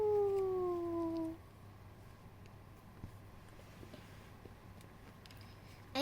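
Kittens inside a converted camper van let out one drawn-out, falling meow near the start, followed by a long quiet stretch and a brief rising cry at the very end, close by.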